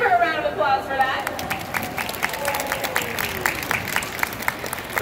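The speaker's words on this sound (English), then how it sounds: "let's give her a round of applause for that." Applause from an audience at a sea lion show at West Edmonton Mall, steady clapping with some crowd murmur and cheering mixed in, fairly close and sustained throughout.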